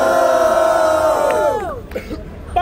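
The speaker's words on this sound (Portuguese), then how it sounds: "Barulho pra batalha." A crowd at a Rio de Janeiro rap battle, Batalha do Coliseu versus Fort, roars and shouts in a loud sustained swell that trails off into scattered yells.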